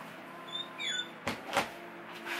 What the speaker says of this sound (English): You forgot to close the door.